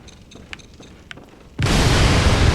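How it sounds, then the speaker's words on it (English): In the video game Bloodborne, a firebomb explosion trap goes off. A few faint clicks and taps come first, then a sudden loud blast breaks in and stays as a dense roaring rumble to the end. "he has a fucking firebomb explosion trap right there"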